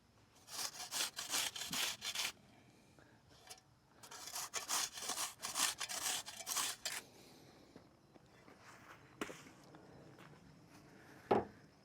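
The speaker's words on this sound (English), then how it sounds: "I'm just going to scoop some of the dirt from this back corner here. And I'm just going to throw it into the front corner here" A shovel scoops dirt and throws it while a concrete pad is prepared, heard as bursts of close, gritty scraping strokes separated by quieter gaps, with a sharp knock near the end.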